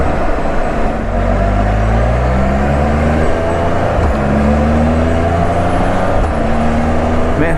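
A Can-Am Spyder three-wheel motorcycle is ridden: a loud, continuous engine drone rises and falls in pitch as it accelerates and shifts, with steady road and wind noise.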